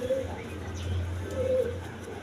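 A pair of Rajgolla pigeons, a female and a male, cooing at close range in soft low repeated coos, with faint ambient noise behind and no clear speech.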